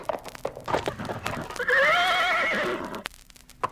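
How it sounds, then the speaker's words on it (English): A horse gallops down a wooded path, its hooves thudding in quick, uneven beats before a loud, rising whinny rings out for over a second and then fades. "Galloping furiously down a path through the woods"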